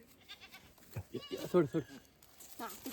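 Goats grazing in a farm field bleat several times in quick succession, nearby and moderately loud, their wavering calls close together with quiet gaps in between.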